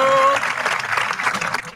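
A home crowd cheers and applauds at an Eton Fives game, a short loud burst of mixed clapping and shouting that briefly includes a sustained voice at the start.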